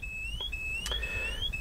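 A Bosch Spexor alarm in a camper van sounds a thin, high electronic tone that sweeps and steps in pitch, broken by a brief click, over a low background hum.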